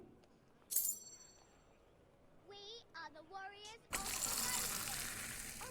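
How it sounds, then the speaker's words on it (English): Beer poured into a pint glass in the video game Fable 2, a gushing, splashing pour that starts abruptly near the end after a clink and brief talk, running loud and steady. "That's a wonderfully poured pint."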